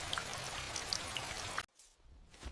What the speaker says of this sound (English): Every drop of rain fell on his head